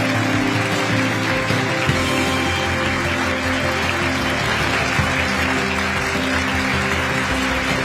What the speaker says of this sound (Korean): 모두 일어나셔서 큰 박수로 환송해 주시기 바랍니다